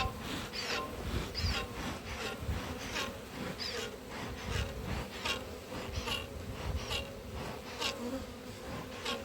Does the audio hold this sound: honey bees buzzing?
yes